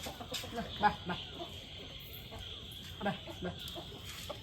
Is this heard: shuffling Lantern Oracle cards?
no